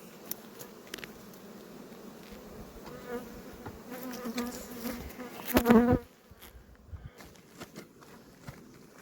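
Honey bees buzz around an open beehive being inspected at a highland apiary, a steady close swarm hum with individual bees droning past, plus brief handling rustles and taps midway.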